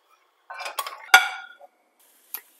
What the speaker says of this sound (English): So heat your pan. I'm going to saute my onions and my garlic.